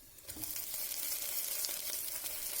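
Okra frying and sizzling in a pan with softened onions for a tamarind curry, a steady bright crackle lasting throughout with no talk.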